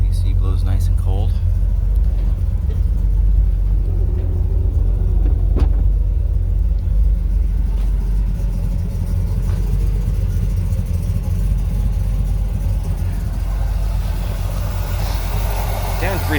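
A 1950 Chevrolet 3100 pickup with a 350 crate motor idles steadily with a deep, loud, even rumble, and a few sharp clicks and knocks sound over it.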